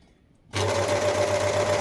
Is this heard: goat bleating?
no